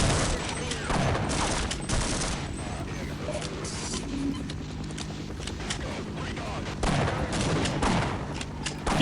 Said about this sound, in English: I think the shotgun is actually doing pretty well.